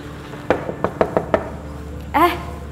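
A door knocked on in an Indonesian drama, five sharp, close knocks in an uneven quick run, followed by a short burst of a voice.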